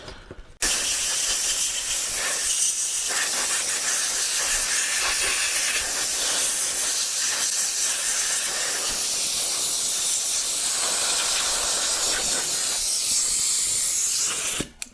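Compressed air from a shop compressor blows through the front brake caliper of a 2014 Kawasaki ZX10R motorcycle, a loud, continuous close hiss lasting many seconds, starting and stopping abruptly, with no talking.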